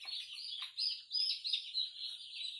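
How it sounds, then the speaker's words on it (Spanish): Two-day-old chicks peep close by in a quick string of high, thin chirps that overlap and repeat without a break. "También bonitos ya los pollitos"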